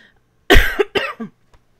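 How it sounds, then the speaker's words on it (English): A person coughs hard twice in quick succession, close and loud, followed by a short rasping tail and a tiny final catch in the throat in an otherwise quiet room. "I seem to be coughing like crazy"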